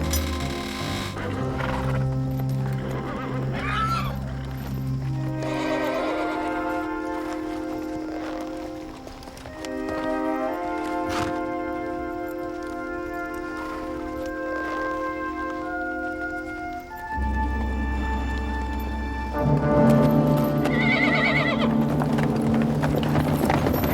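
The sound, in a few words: horses neighing and hooves clopping, Australian light horse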